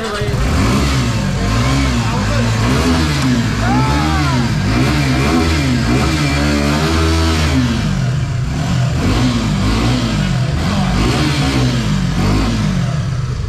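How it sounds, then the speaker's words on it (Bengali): A Suzuki Gixxer motorcycle engine revving in repeated rising and falling bursts, loud and close, at a Uday Motors showroom event, with people's voices mixed in. "একটু স্টার্ট দিয়ে দেখতেছি, এটা সুজুকি জিক্সার"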